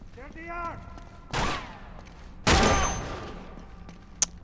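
Gunfire in the Uncharted 2 video game, with two loud bursts of shots about a second apart, a sharp single crack near the end, and game sounds and pitched effects at the start.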